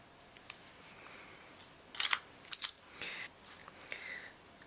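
Scissors snip beading thread during a Christmas bulb ornament beadwork project, giving two or three quick, faint metallic clicks close by in an otherwise quiet room.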